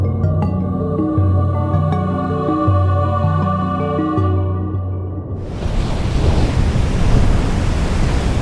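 Surf rolls in on the ocean coast as a loud, steady wash of broadband roar that swells in the second half. Layered musical tones fill the first part and give way to the surf.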